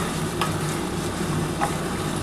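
Chicken pieces and chopped tomato sizzle steadily on a hot tawa for chatpata tawa chicken, a continuous close frying hiss with a couple of faint stirring scrapes and no talking.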